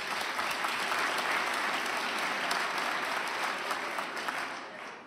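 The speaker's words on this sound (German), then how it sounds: "Mal per Applaus." Audience applause fills the whole stretch at a club comedy show, a dense, steady clapping from a crowd that stays loud throughout and tapers slightly at the end.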